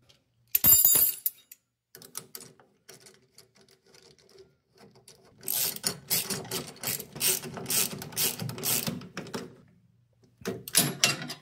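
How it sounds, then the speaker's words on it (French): A ratchet wrench fitted with a half-inch socket tightens a nut with quick clicking runs. There are short bursts first, then a longer stretch of rapid clicks in the middle and a final burst near the end, with quiet gaps between them. "Douille une demi, clé une demi. On positionne notre écrou."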